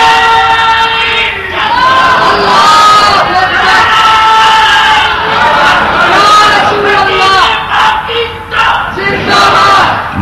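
A large crowd at a religious speech loudly chanting slogans in unison, rising and falling in repeated waves of massed voices, close and dense throughout with no pauses.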